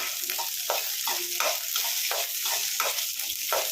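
Green and dried chillies fry in hot oil for a hotel-style keema sambar, a close, continuous sizzle broken by regular scraping strokes of a spoon stirring the pan.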